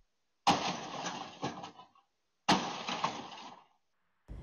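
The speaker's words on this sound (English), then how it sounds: "Smashes the sign twice." An axe smashes into a glass church sign twice, each blow a sharp loud crash followed by shattering glass trailing off for about a second, heard alone with silence between the strikes.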